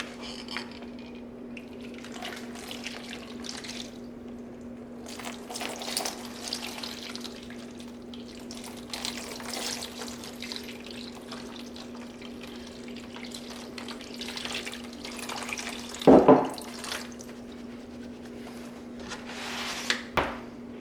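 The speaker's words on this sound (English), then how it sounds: "We're going to focus the water here in the pocket and the heel, especially on the hinges." Tap water runs in a steady, soft stream onto a Wilson SP13 slow-pitch softball glove, aimed at the pocket and heel, with a brief clatter near the end.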